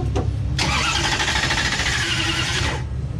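A race car's starter cranks briefly, then the engine whirs and churns steadily for about two seconds before cutting off, loud and close, with no voices over it.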